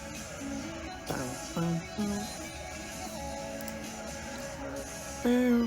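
A GarageBand synth part played on an iPad plays a few short tonal notes, first sparse, then held, with a brighter stab near the end, over a soft background bed and no talk.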